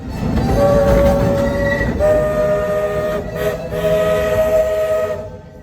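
A Magic Kingdom park train rumbles past with steady rolling noise while its horn sounds in long sustained blasts, loud and close, easing off at the end.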